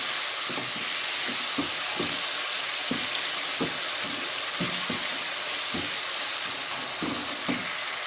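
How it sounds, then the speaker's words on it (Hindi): Tomatoes fry in a pan of goat intestine curry with a loud, continuous sizzle, punctuated by regular scraping stirs of a spoon, with no talking. "अभी टमाटर भी अच्छी तरह इसमें फ्राई हो चुके हैं।"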